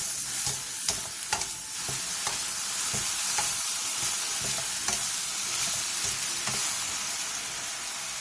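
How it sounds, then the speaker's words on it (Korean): Minced beef, 100 g, is stir-fried with half-wilted eggplant in a pan, a steady hiss of sizzling oil with a spatula scraping and tossing at irregular intervals, close and continuous. "다진 소고기 100g을 넣고 고기의 겉면이 어느 정도 익을 때까지 볶아주세요"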